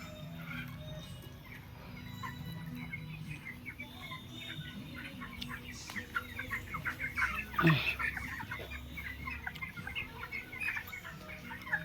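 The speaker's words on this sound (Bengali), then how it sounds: "দেখুন কেমন করতেছে মুরগি।" Chickens on a poultry farm cluck softly and intermittently at a distance, with a few louder calls partway through, over a faint low background hum.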